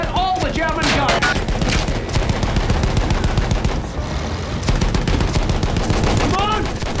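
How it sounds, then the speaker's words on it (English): Dense machine gun fire in the Battlefield video game, rapid continuous bursts of gunshots crackling loud and close throughout, with a shouted voice over the din in places. "Those machine guns are holding our lads back."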